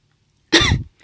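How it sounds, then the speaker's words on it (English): One short, loud cough from a person with a cold bursts out of near silence, close and dry, lasting under half a second. "if you hear me, like, coughing or, like, sniffling like that, it's just because I have a cold"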